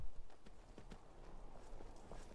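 A horse's hooves clip-clop at a walking pace on a road in the video game Skyrim, with a steady run of quiet, close hoofbeats over a low background rumble.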